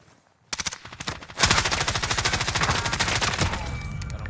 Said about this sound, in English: He's shooting at people right now.